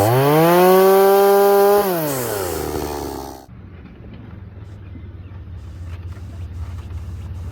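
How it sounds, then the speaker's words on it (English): A chainsaw engine cutting vines in a forest roars loudly at high revs, then winds down and drops to a low idle that keeps running. "I'm going to cut them with the chainsaw quick"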